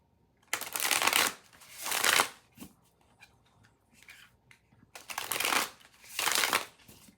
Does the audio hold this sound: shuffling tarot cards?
yes